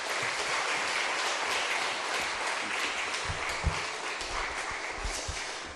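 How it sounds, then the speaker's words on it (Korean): Large church congregation giving a big round of applause to welcome a pastor at a revival meeting, a continuous dense roar of clapping at steady volume throughout. "우리 문영호 목사님 큰 박수로 모시겠습니다"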